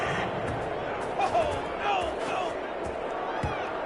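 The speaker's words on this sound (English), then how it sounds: "this crowd does not like that call" A stadium crowd in a football video game reacts to a roughing-the-passer penalty with a sustained roar of jeering and murmuring, steady and fairly loud, with a commentator's voice speaking over it.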